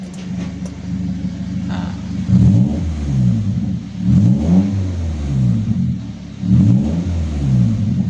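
A car exhaust fitted with a valvetronic valve and a muffler, set to racing mode: a deep, loud idle rumble broken by three strong revs that rise and fall, roughly two seconds apart.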